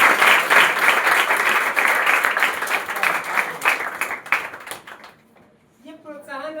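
Enthusiastic applause from an audience at a prize ceremony for top board exam students at a coaching centre in Bihar, dense clapping that thins out and fades, followed by a voice speaking.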